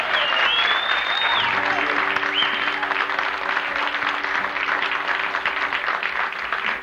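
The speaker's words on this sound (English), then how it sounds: "We need to give him a round of applause for a Grammy first." Applause from a crowd at a country music showcase in a Nashville venue, steady and sustained throughout, with a few whoops and whistles rising above the clapping.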